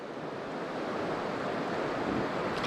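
Swift river current rushes at the head of a fly-fishing run, a steady, close, broadband wash of flowing water with no talking.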